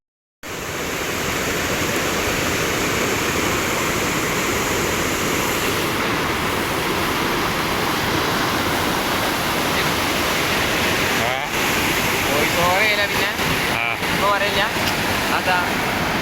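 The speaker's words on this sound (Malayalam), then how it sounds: "ചെറിയൊരു വെള്ളച്ചാട്ടമാണ്, എല്ലാവർക്കും ഇഷ്ടപ്പെടും" A small waterfall in Kondotty pours with a continuous, loud, close rushing roar of falling water that stays even throughout after a sudden start.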